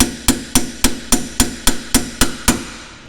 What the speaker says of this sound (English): then if you hit it with a hammer